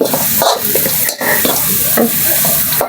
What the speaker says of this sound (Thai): เราเจียวกระเทียม หอมแดงนะเหลืองพอออกเหลืองก็ใส่เกลือ